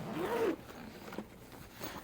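Zippers on a Black Voyage AirCabin Pro vacuum compression roller bag being pulled, a close, loud rasping zip in the first half second, followed by quieter handling and faint rustling.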